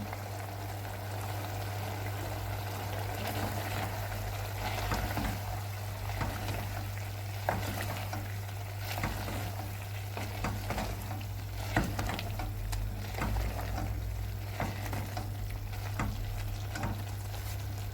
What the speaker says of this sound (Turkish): Şimdi biraz daha kavuralım.